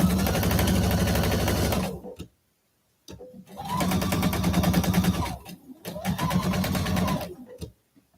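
A sewing machine runs in three loud bursts of rapid, even stitching, separated by brief pauses of near silence.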